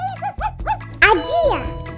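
A cartoon dog barks in a quick series of short, bright yips, close and loud, with a voice sounding alongside.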